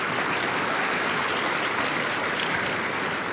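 A studio audience at a talk show breaks into applause, a dense, even clapping that holds steady and loud throughout, with no voices over it.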